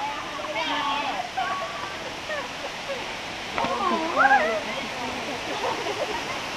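Rushing water pours steadily at Phieng Din waterfall, a constant wash of noise with people talking over it.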